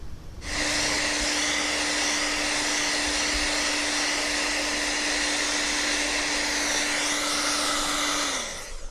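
A heat gun or hair dryer warms a VW Scirocco badge and bonnet, blowing as a loud, steady whine and rush of air for about eight seconds before winding down and cutting off.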